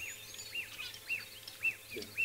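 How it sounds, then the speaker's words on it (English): Bird calls ring out in the African bush, a repeated bright chirping phrase sounding about every half second with fainter calls layered behind, moderately distant against quiet background. "Can you hear all the bird calls around us though?"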